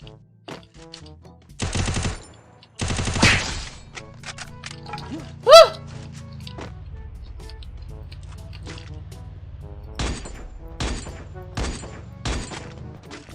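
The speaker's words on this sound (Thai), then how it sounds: "มีคนยิงช่วยเราด้วย" Gunfire in the Free Fire video game, with short automatic bursts early and scattered single shots and rattles later, loud and close against game effects, with no clear talk.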